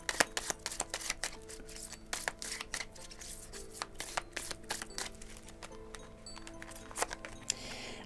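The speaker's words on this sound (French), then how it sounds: "Allez, on va mettre une petite carte de l'oracle des amoureux." Oracle cards of a lovers' oracle deck being shuffled and handled during a tarot-style reading, a quiet run of quick papery flicks and taps close by, with no talk over them.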